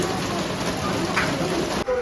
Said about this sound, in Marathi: पाऊस खूप चालला आहे बघा पाऊस भरपूर आहे